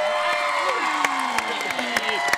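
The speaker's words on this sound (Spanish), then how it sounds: "¡Un aplauso a Garibaldi!" A crowd cheers and whoops for Garibaldi on a variety show stage, voices and whistles mixed with scattered claps, steady and fairly loud throughout with sharp accents.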